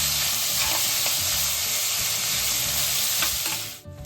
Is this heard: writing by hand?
no